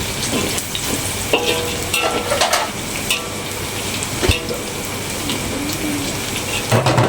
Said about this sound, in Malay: ni kita tumiskan dulu bawang putihnya